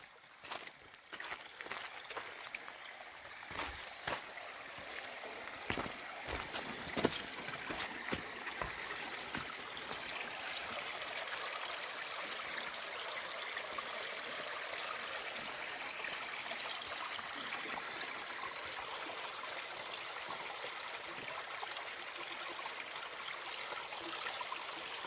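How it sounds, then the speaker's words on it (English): A small creek in a Nevada canyon on Lower Mt Wilson flows steadily, a constant broadband rush and trickle with a few close knocks early on, then an even, unbroken flow. "Beautiful little creek."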